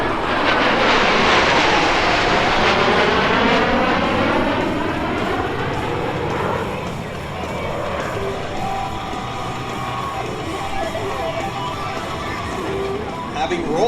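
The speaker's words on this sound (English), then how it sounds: "From behind the spectator area, Blue Angels 5 and 6 are approaching the flight line at 400 miles per hour" Two U.S. Navy Blue Angels jets roar past at about 400 mph at the 2017 Millville Airshow, a loud rising-and-falling whoosh with a Doppler sweep that fades to a lingering rumble, while an announcer talks over it.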